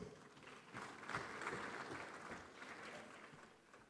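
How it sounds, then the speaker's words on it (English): Applause from an audience at a banking conference's annual meeting, a steady wash of clapping that swells after the first second and holds fairly even, medium-distant and moderately loud, with no voices over it. "Give a round of applause."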